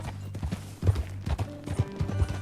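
Horse hooves clip-clop at a steady walking rhythm in Red Dead Redemption 2, close and clear over a low game music drone.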